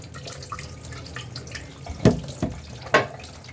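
Tap water runs and splashes over green cucumbers being washed, a low steady trickle with a few louder splashes as the vegetables pass under the stream.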